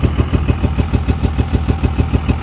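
A poorly running vehicle engine idles roughly close by, its low chugging pulses firing in a steady but uneven beat throughout.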